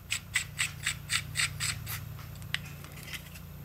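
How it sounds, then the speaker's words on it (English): A Lone Wolf 9mm conversion barrel being fitted into a Glock pistol, heard as a rhythmic series of close metallic clicks and ratcheting slides, then a few scattered softer scrapes. "you have to have the thread protector off when you install the barrel."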